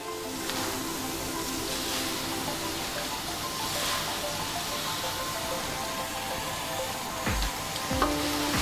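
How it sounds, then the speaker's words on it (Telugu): Gongura leaves dry-fry in a pan without oil, giving a continuous sizzling hiss with faint stirring scrapes and a couple of sharper knocks near the end. "ముందుగా కడిగి పెట్టుకున్న గోంగూర కూడా ఫ్రై చేసుకుందాం మనం ఆయిల్ లేకుండా"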